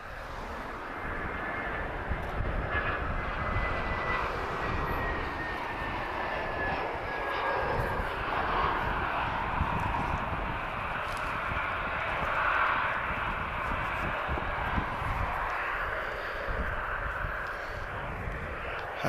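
Airbus A319 airliner at Lisbon Airport, its engines droning steadily at moderate distance with a broad sustained roar that swells slightly mid-way, faint tonal whine on top.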